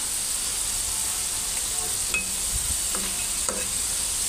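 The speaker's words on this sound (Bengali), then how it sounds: "ডুবো তেলে ফ্রেঞ্চ ফ্রাই ভাজলে এরকম হয়" French fries deep-frying in a pan of oil give a constant high bubbling hiss, with a few soft clinks and a low thump from a utensil partway through, near and without any voices.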